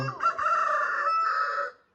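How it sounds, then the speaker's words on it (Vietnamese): A young F1 rooster crows once, loud and close, a long strained cock-a-doodle-doo that fades out at the end. "đây là một con gà F1 của mình nha."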